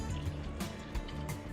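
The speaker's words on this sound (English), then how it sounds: "Finally, add 2 cups of water" Two cups of water pour into a cooking dish of fried kohlrabi, tomatoes, green peas and chicken, a brief, close, splashy gush.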